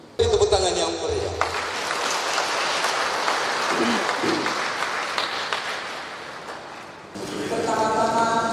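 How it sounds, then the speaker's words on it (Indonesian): Audience applause at a gathering, a dense burst of clapping that swells and holds for several seconds, with a voice talking before it and music or talk returning at the end. "Tepuk tangan yang meriah."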